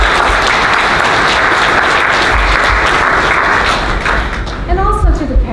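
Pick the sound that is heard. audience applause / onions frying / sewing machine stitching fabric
audience applause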